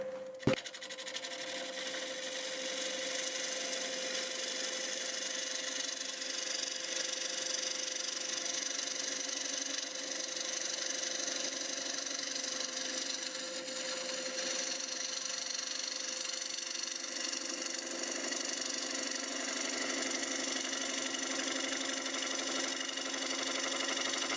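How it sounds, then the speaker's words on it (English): A wood lathe spins a cherry wood piece while a freshly sharpened half-inch bowl gouge takes a light, easy cut, giving a steady, even whirring hum with faint continuous scraping throughout. "I'm going to switch to the 1/2 inch bowl gouge, which is also freshly sharpened, and just see if we can clean that up with a nice easy cut."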